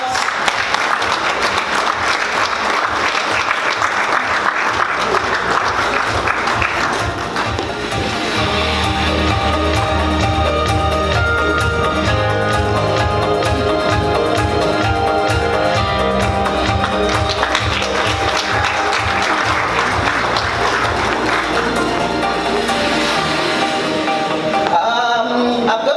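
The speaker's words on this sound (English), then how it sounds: "Please, can we give her a round of applause?" Sustained applause from the audience at a charity launch event, steady clapping running for a long stretch alongside loud music with a strong beat.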